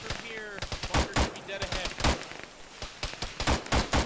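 Gunfire in the Arma-style tactical shooter ShackTac, rapid bursts of loud, sharp shots in an uneven rhythm, some close and some farther off, with brief radio voices between them.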